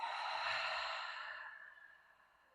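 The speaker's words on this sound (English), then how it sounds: "Great big exhale through the mouth" A single long, breathy exhale through the mouth closing a yoga practice, soft and close, starting strong and gradually fading away into quiet.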